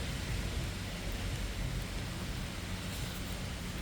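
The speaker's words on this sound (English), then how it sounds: "It's not raining as hard." Steady rain falls outdoors, a dense broadband hiss holding even and fairly loud throughout with no voices.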